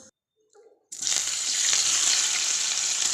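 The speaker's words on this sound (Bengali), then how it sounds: "আমি সাদা তেল আর একটু সামান্য ঘি দিয়েছি, দিয়ে এটাকে হালকা করে ফ্রাই করে নেব" Pieces of paneer, about 400 grams, hit hot white oil with a little ghee and burst into a loud, steady sizzle after a brief quiet moment with a soft clink. The frying then continues evenly and close by.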